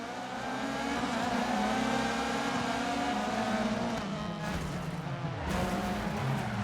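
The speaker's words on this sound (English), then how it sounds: "you only have engine noises to comfort you" Rally car engine from the game Dirt Rally 2.0 roars steadily and close, with harmonic revving that rises and shifts, plus a brief dip and tire noise near the end, no talking.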